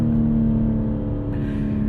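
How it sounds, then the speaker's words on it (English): A 2022 BMW M4 Competition xDrive with a ZF 8-speed torque-converter automatic accelerates hard, its loud, steady engine drone shifting in tone partway through as a gear change hits, heard from inside the cabin with no talking. "That gear change is so aggressive."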